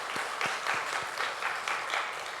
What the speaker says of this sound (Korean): 우리 감사하다고 우리 박수하겠습니다